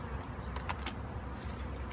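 Honey bees buzz steadily around a hive being installed, frames already heavy with honey, a dense continuous hum close by with a few brief louder passes of single bees near the microphone.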